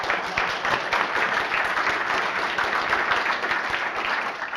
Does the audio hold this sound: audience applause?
yes